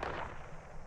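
A gun turret in Fallout 76 lets off a single heavy, booming shot that rolls out and fades over a moment, fairly distant and muffled.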